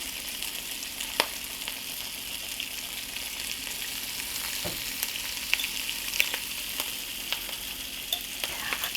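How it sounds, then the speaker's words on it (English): Sauerkraut hitting a pot of fried smoked sausage and potatoes, with a steady close sizzle and frying crackle, punctuated by occasional sharper pops and stirring clicks; no talking. "I think it's time to add my sauerkraut in now"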